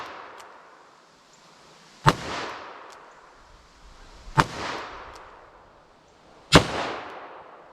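Three loud, sharp gunshots from light Magnum handloads in .357 or .44 Magnum, fired over a chronograph outdoors, evenly spaced about two seconds apart, each with a ringing echo that fades before the next.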